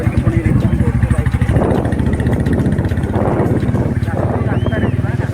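A motorcycle engine runs steadily on a road during a ride, a continuous low rumble close by with people talking over it.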